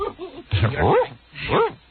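A small dog, a chihuahua, yips and whimpers in three short bursts on a radio show, the sound thin and band-limited as if played over broadcast.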